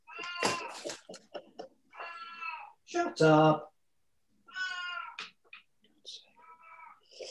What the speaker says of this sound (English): Cat's complaining again.